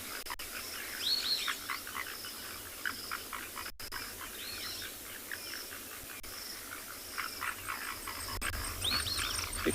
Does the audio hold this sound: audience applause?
no